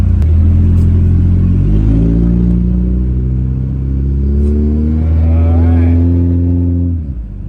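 A small Honda car, recently fitted with a new distributor, drives with its engine droning loud and close, its pitch climbing as it revs up through a gear before easing off near the end.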